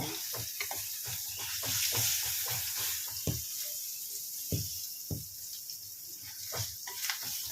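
Green chilies frying in hot oil, a steady crackling sizzle broken by frequent sharp clicks and taps of a stirring utensil against the pan, close and fairly quiet with no talking.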